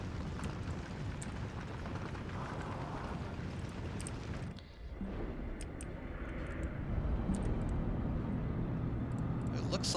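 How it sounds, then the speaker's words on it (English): A bomber aircraft drones overhead in the Steel Division II war game, a broad continuous engine roar that briefly dips, then swells louder, with talk over it. "I think it's worth sending another bomber out."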